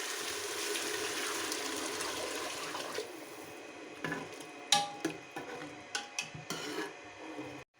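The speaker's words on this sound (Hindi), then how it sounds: "अब मैं इसमें डाल दूँगी पानी" Water pours with a hissing rush into a pan of frying potatoes and peas, then fades into several sharp spoon clinks and stirring squelches close by.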